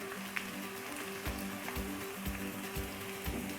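Garlic, ginger, onion and green chillies fry in hot oil for a kidney bean curry, giving a soft, steady sizzle with faint periodic thumps, close and quiet, and no one speaking.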